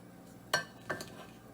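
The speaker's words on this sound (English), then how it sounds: "So I'm just stirring this around." Spoon clinking against a pot while stirring coconut gizzada filling, two distinct metallic taps close by with a faint scrape between, no talking.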